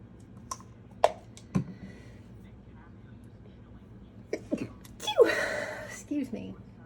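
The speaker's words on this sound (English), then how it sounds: "Oh, I gotta sneeze." A person sneezes once amid quiet clicks and taps while painting an acrylic landscape, a sharp burst preceded by a few small sharp noises and brief indrawn breaths.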